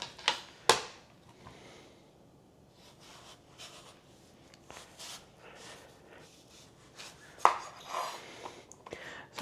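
A knife chops the ends off a sweet potato on a cutting board: a few sharp, distinct cuts with short quiet gaps between them, close and fairly faint, with no talk.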